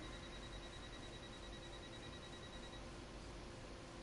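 A train door closing warning in Train Sim World sounds as a faint, steady repeating tone over a constant low cab rumble, with no one talking.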